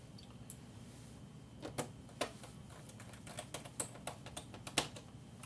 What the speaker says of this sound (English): we will reinsert our bezel screws and our plastic screw covers